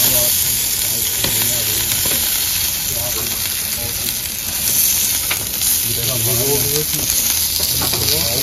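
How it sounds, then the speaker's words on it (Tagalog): Meat sizzling on a brand-new barbecue grill outdoors, a steady dense crackle and hiss running throughout, with music playing and people talking in the background. "Nag-barbecue kami ngayon dito."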